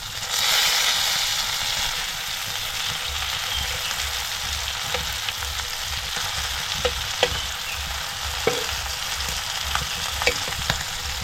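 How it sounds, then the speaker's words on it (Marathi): Rava-coated mandeli fish fry in shallow hot oil in a pan, a steady close sizzle and crackle with a few sharp pops and light clinks toward the end, no voices. "थोडं थोडं तेल टाकून असे मासे चांगले तळून घ्यायचे मस्त"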